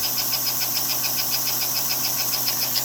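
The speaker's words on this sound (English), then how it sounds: "The motor driving the wheel" A small electric motor in an American Flyer 5-digit Atlantic model locomotive drives the wheels, giving a steady, close, even whir with a fast regular pulsing and a constant low hum underneath.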